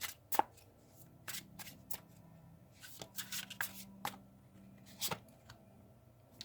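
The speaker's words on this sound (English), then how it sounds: "we will take the deck, the" A tarot deck is handled up close, with sharp riffling and shuffling bursts and card snaps spaced irregularly, quiet and with no one talking.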